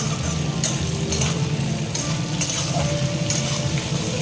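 Spice paste with turmeric, chili powder, green chili and salt sautéing in a pan, a steady close sizzle with scraping and stirring that keeps going the whole time, with no talk over it.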